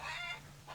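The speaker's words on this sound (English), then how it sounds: "We've got 8 chickens and 1 rooster." Chickens clucking in the farming game Farmer's Dynasty 2, a short, close cluck followed by a second brief call, with no talking.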